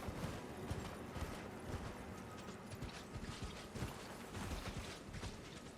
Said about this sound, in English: That's a weird noise when we trample on that with our horse